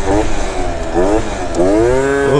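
A Yamaha Zuma scooter with a ported cylinder and oversized 108 main jet revs hard in rising and falling pitch sweeps during a wheelie, loud and close, with a rider's voice faintly underneath.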